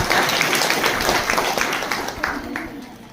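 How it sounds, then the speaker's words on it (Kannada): An audience claps loudly and continuously at the inauguration of a taluk-level Poshan Abhiyan programme, a dense burst of many hands filling the hall. "ಒಂದು ಜೋರಾದ ಚಪ್ಪಾಳೆಯೊಂದಿಗೆ ಧನ್ಯವಾದಗಳು."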